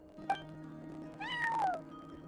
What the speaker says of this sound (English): cat watching over the front desk